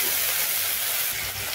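Cut potatoes drop into hot oil with tempered spices in a pan, giving a loud steady hiss and sizzle that fills the brief moment close up, with no talk.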